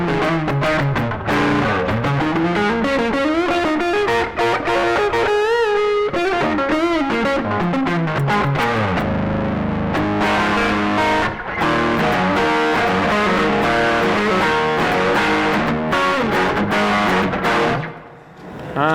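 Heavily distorted electric guitar with an overdrive effect plays a continuous run of gritty, saturated notes and chords, loud and up close, with a brief pause near the end.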